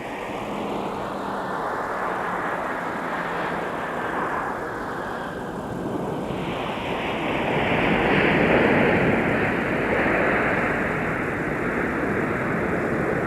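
A fixed-wing airliner takes off from MSP airport in winter, its engines a loud, steady roar that swells midway and holds, with no talk over it.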